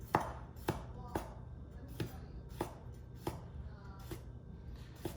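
Tomatoes being chopped with a new sharp knife on a cutting board for a salmon sauce for penne, a steady series of about ten crisp, evenly spaced knife strikes, close and clear with no talking.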